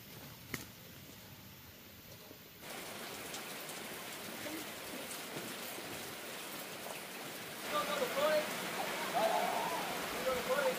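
Rain falls steadily, a dense hiss that grows heavier partway through and louder again near the end, with a brief knock at the start.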